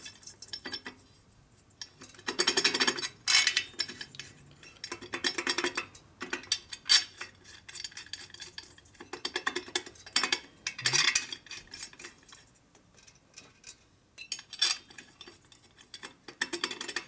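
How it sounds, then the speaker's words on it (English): Small screws clink and rattle as they are fitted into the pan cover of a 1958 or 1960 Harley-Davidson Panhead engine head, with repeated short metallic taps, scrapes and bursts spaced irregularly and no voices. "Put a few of these screws in here."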